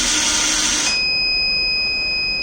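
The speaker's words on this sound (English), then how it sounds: "provide us the audible alert through the buzzer" A steady, shrill electronic buzzer alert from an automatic headlight intensity control system sounds continuously over a fading hiss, holding at one pitch without pause.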